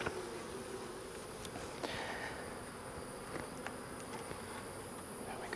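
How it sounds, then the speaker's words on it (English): Honey bees swarm around an open hive during a hive merge, a faint, steady, droning buzz with small flickers of individual wingbeats. Soft and continuous, with no voices. "I don't want to smash all these bees."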